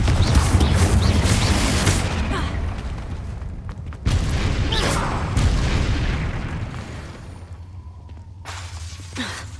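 Spell blasts from Confringo in Hogwarts Legacy: loud crackling, shattering bursts with booming low rumble, one big impact near the start and another at four seconds, then a fading tail and a short sharp hit at the end.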